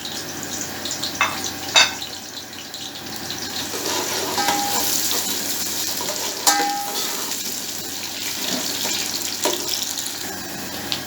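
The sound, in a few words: chopped onions frying in oil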